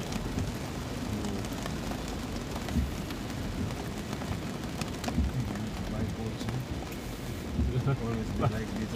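Heavy monsoon rain pounds the outside of a car on a drive in Kaohsiung, a dense, steady roar of rain with low rumbles throughout, loud and continuous for the whole stretch.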